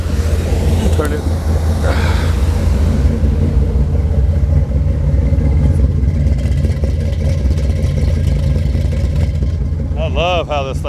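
A classic Chevy car engine runs steadily nearby at a loud, rumbling idle, with a deep continuous low-end growl and no clear revving; a brief whistle-like tone sounds near the end.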